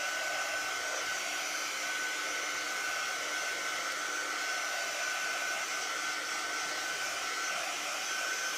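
A hair dryer blows steadily on painted lettering on a retro truck, a constant close whirring hiss with a faint tonal whine and no pauses.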